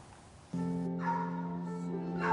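Terrier mix puppies barking and yipping, a steady run of close, fairly loud barks starting after a brief quiet lead-in and continuing to the end.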